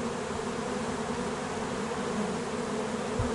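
Honeybees swarm densely around a hive in the Drôme, making a steady, loud droning buzz that fills the air without pause, close by and with no voices.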